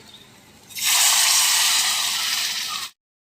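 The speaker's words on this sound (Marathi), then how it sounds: "आता यात आहे बघा गरम पाणी घालूया" Hot water is poured into an alu vadi rassa curry in one steady, loud splash. It starts after a quiet moment, runs about two seconds, then cuts off abruptly.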